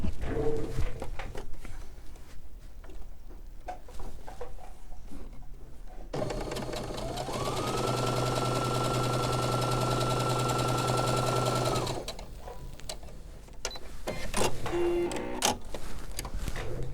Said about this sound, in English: I'm going to sew it right on that marked line